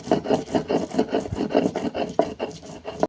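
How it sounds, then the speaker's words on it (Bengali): Fried pointed gourd peel being ground on a stone slab, a steady rhythmic rasping scrape repeating back and forth at close range with no voices. "এটা আমরা ভেজে শিলের ওপর নামিয়ে নিয়েছি। এবার এটা আমরা বেটে নেব।"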